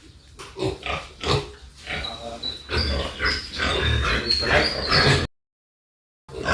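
Piglets on a farm grunt and squeal in a busy, close cluster of overlapping bursts, loud and continuous, ending in a sudden brief silence before the noise resumes.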